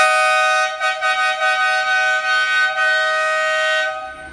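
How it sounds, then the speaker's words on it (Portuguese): A dual snail horn fitted to a Fiat Fastback blares close by in a loud, bright, two-tone honk, sounded as a long blast with several quick pulses before it cuts off. "escuta agora a buzina como ficou bonita também."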